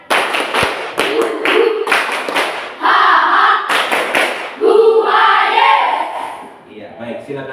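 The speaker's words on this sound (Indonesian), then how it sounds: "Tepuk semangat." A classroom of pupils performs a rhythmic cheer clap, bursts of sharp unison claps alternating with loud group chanting, close and energetic, ending in a softer patter.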